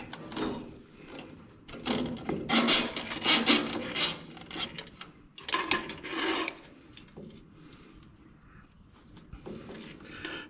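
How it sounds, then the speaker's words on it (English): Metal nut being spun and tightened onto a bolt by hand, giving bursts of rasping, ratcheting friction with short pauses, close and moderately loud, tailing off into quiet near the end. "I probably should get that nut on there before I get too far away here."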